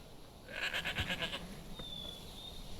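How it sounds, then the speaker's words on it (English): Sheep bleating in Minecraft's Dawncraft modpack, a wavering bleat near the start followed by faint game ambience. "There's sheep"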